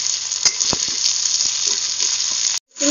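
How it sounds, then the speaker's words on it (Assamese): Pork and bamboo shoots frying in hot oil in a home kitchen, a steady close, loud sizzle running throughout with a few brief stirring knocks, cutting out abruptly near the end. "এতিয়া বনাম বাঁহৰ গজালিৰ লগত গাহৰি মাংস প্ৰথমতে দি লৈছোঁ তেল"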